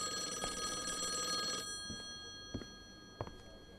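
A telephone rings in the video game Call of the Elder Gods, a steady trilling bell that cuts off partway through, followed by a few faint clicks and knocks.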